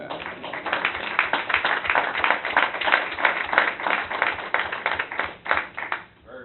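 A round of applause breaks out at a county commissioners court meeting, a steady wash of many hands clapping that holds for about six seconds before tapering off at the end.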